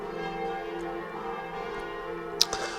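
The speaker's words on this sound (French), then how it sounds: "J'aurais dû fermer la fenêtre pour le bruit des cloches, je suis désolé." Church bells ring outside an open window as a steady wash of overlapping, sustained metallic tones at moderate distance, with a sharp clink near the end.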